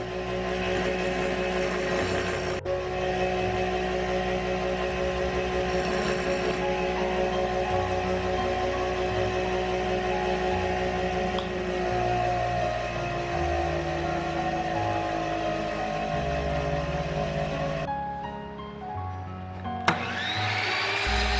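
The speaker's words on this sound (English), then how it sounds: "After cutting the threaded roll, use a grinder to grind the edge and the corner to lock the nut" An angle grinder grinds the cut edge and corner of a threaded rod for a homemade woodworking clamp, a loud, continuous high whine with shifting pitch that runs close up and alone, then cuts off near the end.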